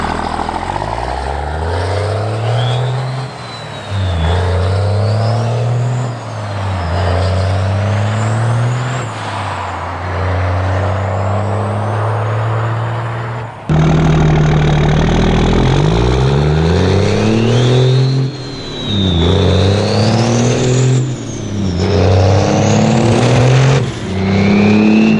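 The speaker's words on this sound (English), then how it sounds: "that is one of the most iconic diesel sounds ever" A Cummins diesel truck engine rumbles loudly and close by. It climbs and falls through repeated revs with a deep growl and a rising whine, then settles toward idle between bursts, with no talk over it.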